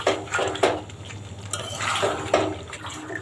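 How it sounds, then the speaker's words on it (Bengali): A spoon stirs a country chicken curry with potatoes in a covered pot. The scraping and sloshing of the wet meat and juices comes in a few close, uneven strokes, with no one talking. "এবার একটু নেড়ে দেব।"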